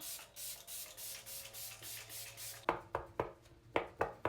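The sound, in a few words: makeup setting spray spraying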